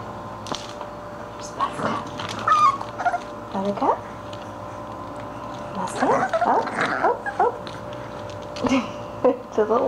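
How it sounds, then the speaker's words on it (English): An English Bulldog puppy yips and barks in short bursts, with whimpering in between, mixed with a person talking and some household clatter. "Why are you barking at me?"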